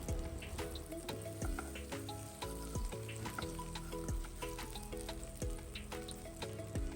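Cabbage rolls fry in butter in a pan with a soft, continuous sizzle and crackle, and small pops scatter over the steady hiss at a quiet level.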